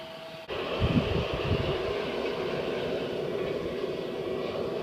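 A hair dryer, connected by a radiator hose to the standpipe of a home-built forge furnace, switches on and blows a steady, loud, broadband rush of air that holds constant throughout.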